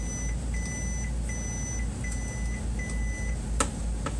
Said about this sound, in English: the beep can always come on